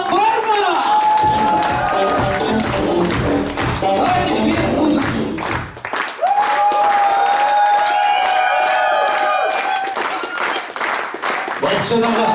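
Guests at a Kazakh toi celebrating a child's first birthday break into applause, a dense wash of crowd clapping and cheering that runs through most of the stretch, overlapping with voices and bright tonal sounds.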